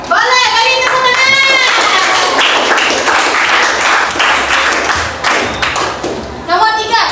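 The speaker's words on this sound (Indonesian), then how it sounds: "Boleh, beri tepuk tangan." A classroom of students breaks into loud, close clapping during a lesson on the ethics and risks of artificial intelligence, with children's voices chattering over the applause.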